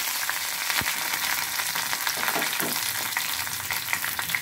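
Curry leaves fry in hot oil for a Telugu rasam tempering, a dense, steady sizzle with crackling pops and a few stirring scrapes, close and continuous throughout.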